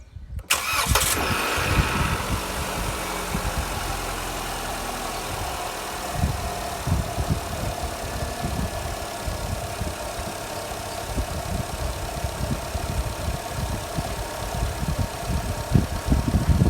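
A Jeep Renegade engine cranks and catches with a sharp start, then settles into a steady, close, rumbling idle that continues throughout.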